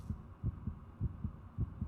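A video game heartbeat effect from Spirit Hunter: Death Mark thumps in low, muffled double beats at a steady, slightly quick pace, quiet and alone over a faint hum.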